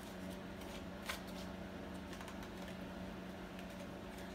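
Tarot cards being shuffled and drawn during a fire-sign reading, a steady soft papery riffle close by over a constant low hum, with no talking.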